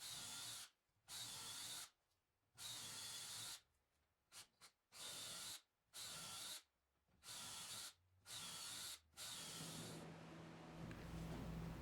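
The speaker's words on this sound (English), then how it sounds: "I can now drill the remaining holes into the stud and ensure all the holes are lined up." Power drill boring a series of holes into a wooden 2x4 wall stud for a garage lumber rack, seven or so bursts of whirring, each lasting about a second, separated by short pauses, close and loud.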